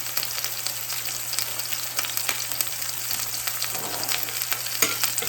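Patty melt bread toasts in butter on a griddle, giving a steady soft sizzle with faint crackles and small pops, fairly quiet and close with no voices.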